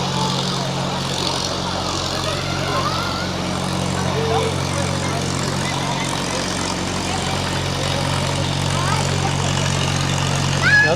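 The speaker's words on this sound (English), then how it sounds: "running on a diesel engine, is actually fairly unique" Diesel engine of the Flyer amusement ride at Knoebels amusement park, a steady low droning hum running throughout amid a busy, crowded park background with voices.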